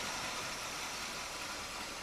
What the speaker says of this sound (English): It's quiet. You know, it's idling okay.